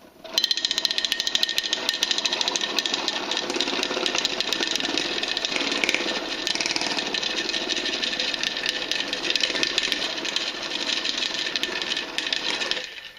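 A KVM mini vortex mixer for acrylic pigment, tattoo ink or glue whirs steadily and close, a dense mechanical buzz with faint rattling that runs unbroken for the whole stretch, with no voices.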